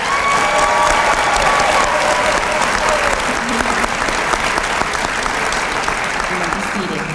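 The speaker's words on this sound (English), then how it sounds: "Let's give him a round of applause." A school graduation audience claps steadily for a graduate, loud, sustained applause from a large crowd with faint voices underneath, holding strong throughout.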